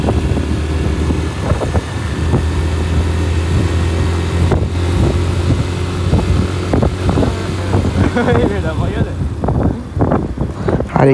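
A motorcycle riding along a village road, its engine droning steadily and close with wind buffeting the microphone, while a voice talks over the ride.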